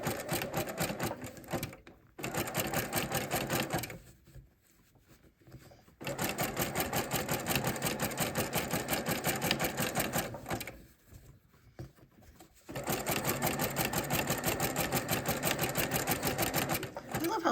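A sewing machine stitches fabric-wrapped rope trim in long steady bursts of rapid, even needle clatter, stopping twice for short quiet pauses before starting up again, close and clear.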